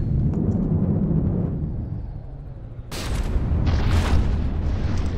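Missiles exploding in the video game From The Depths, heavy rumbling booms with a low roar that swells, dips, then erupts into a louder, brighter blast that lingers.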